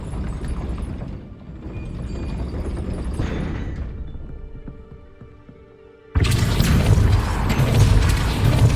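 Depulso spell effect in Hogwarts Legacy, a booming, crashing burst of force that slams in suddenly and loudly after a rumbling, fading stretch of other spell noise.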